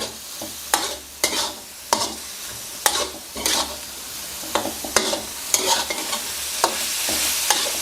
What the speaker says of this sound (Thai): ผัดคลุกเคล้าให้เข้ากันครับ